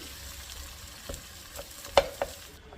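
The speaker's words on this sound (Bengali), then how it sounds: "এখন পেঁয়াজটাকে আমি একটু ভালো করে তেলের মধ্যে ভেজে নেব" Chopped onion fries in oil, giving a soft steady sizzle at moderate loudness, broken by a few light stirring clicks and scrapes from a utensil against the pan.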